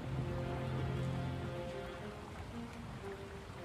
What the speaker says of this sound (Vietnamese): Cơn mưa vẫn cứ rền rã không dừng.